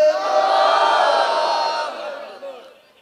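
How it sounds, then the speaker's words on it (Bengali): A large crowd at a religious sermon gathering chants the takbir, Allahu Akbar, in one loud, sustained unison roar that fades toward the end. "আল্লাহ পাক আমাদের এই আল্লাহু আকবারের ধ্বনিকে কবুল করেন"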